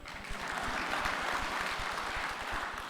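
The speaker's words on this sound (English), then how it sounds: "I thought you'd have clapped for me" An audience at a 2024 KUCCPS stakeholder forum in a convention center claps steadily, producing a dense, even spread of applause that holds at a moderate level for a few seconds without pause.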